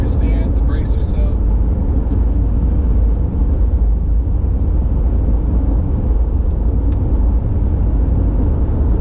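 A rebuilt 2014 Ram 2500 pickup truck drives through curves, its engine and road noise a steady loud low rumble heard from inside the cab, with a brief rattle near the start.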